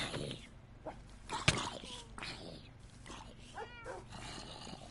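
A large pack of tamed wolves in the Minecraft Bedrock game on PS4 bark, growl and whimper in scattered bursts during a fight, fairly faint under game noise.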